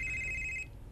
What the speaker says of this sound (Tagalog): Si Jared kining may balik og tawag